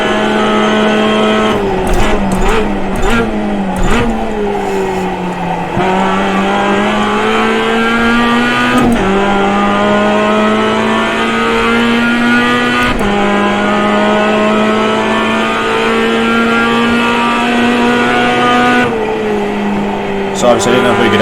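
A GMX5 race car in iRacing on a hot lap at Summit Point, its engine droning loud and steady, with pitch rising through the gears and dropping on downshifts, under a voice.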